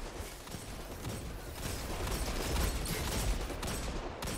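Sustained gunfire in Destiny 2 PvP, a dense, continuous barrage of shots with metallic mechanical clatter that builds slightly toward the end, loud and close with no talk.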